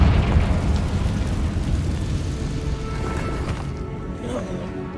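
Confringo blasting spell going off in Hogwarts Legacy, a loud sustained rumbling explosion that rolls on for several seconds and slowly fades.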